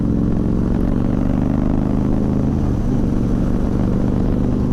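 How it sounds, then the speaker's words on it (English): 2011 Honda VT1300 Fury cruiser motorcycle fitted with a Vance & Hines exhaust, a deep, throaty V-twin rumble held steady and close while riding, loud and unbroken. "The exhaust on this thing sounds awesome. It is a Vance & Hines exhaust system, and it sounds really good"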